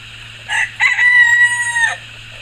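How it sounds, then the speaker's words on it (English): A single loud chicken call rings out close by in a backyard coop, one drawn-out, strained cry lasting about a second and a half against a quiet low hum. "With the additional chickens that we added to our flock this year"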